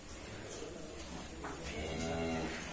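A cow gives a long low moo over a busy background of other cattle and farm noise.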